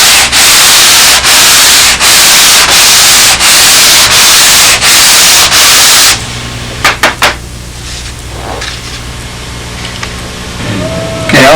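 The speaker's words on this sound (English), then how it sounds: "Very handy having that sanding belt glued to the table." Loud rhythmic rasping as wood is rubbed back and forth on a sanding belt, about a dozen strokes, then quieter handling noises.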